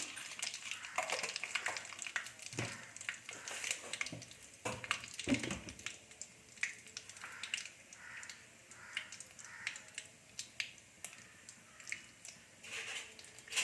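Mustard seeds fry in a hot pan, giving faint, irregular crackles and pops over a quiet background, thicker at first and then thinning out.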